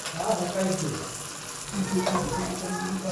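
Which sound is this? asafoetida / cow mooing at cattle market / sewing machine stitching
asafoetida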